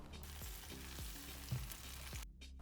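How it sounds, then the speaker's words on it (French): A breaded pork chop fries in a pan with a steady, quiet sizzle and crackle, and a few soft pops and clinks from the pan. It cuts off abruptly at the end. "Une petite seconde pendant que je le remets à cuire."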